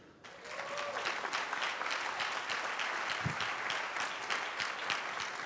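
Audience applause at a speech on inspiring youth and closing the achievement gap: dense, sustained clapping from a crowd that swells quickly and holds steady for several seconds.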